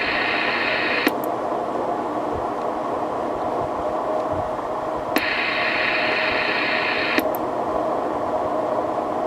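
Steady static hiss fills a CB radio tuned to sideband on channel 38, broken by a few sharp clicks and shifts in the noise, with no voices.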